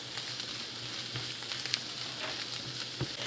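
Onions, garlic and chopped herbs sizzle steadily in a pan, a soft continuous frying hiss with a few small pops and stirring clicks, no voices.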